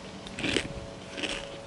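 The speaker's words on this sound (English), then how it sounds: "And I'm also eating cereal." Cereal crunches in a mouth, with two soft, close chewing bites about a second apart against a quiet room.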